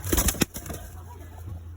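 An Iraqi red pigeon hen beats its wings in a short flurry of close, loud flaps at the start, then settles into quiet room noise.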